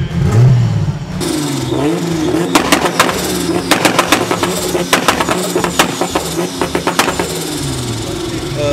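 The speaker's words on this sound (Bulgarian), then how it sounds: "Давай да запалим двигателя" A Toyota Supra 2GZ turbocharged engine in an off-road jeep starts and revs repeatedly in sharp, rhythmic bursts, close up, with a heavy throaty rumble between blips.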